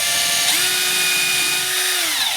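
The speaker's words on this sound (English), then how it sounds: "So I'm just going to drill some pilot holes," A power drill bores pilot holes for hinges in a wooden box, a loud steady whine that rises in pitch as the motor spins up, holds for about a second and a half, then winds down.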